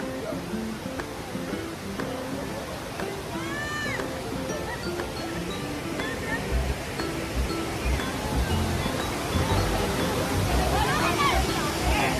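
Dassam Falls near Ranchi roars with a steady broadband rush of falling water while crowds of picnickers mill about, their distant voices and occasional whistles mixed into the constant wash.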